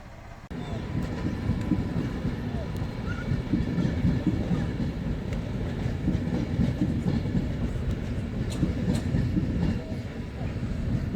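A northbound train passes close by, a sustained loud rumble with rhythmic clickety-clack from the wheels for the whole stretch.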